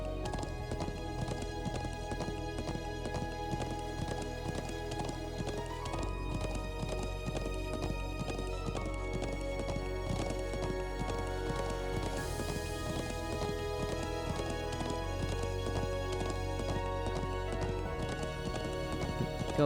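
A horse gallops in a video game, a continuous rhythmic clip-clop of hooves mixed into a dense game soundtrack, steady and moderately loud throughout with occasional neighs.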